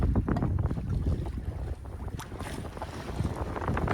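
Wind rushes steadily past a sailboat offshore on an evening solo passage from St. Thomas, with water sloshing against the hull and gusty buffeting across the microphone; no voices.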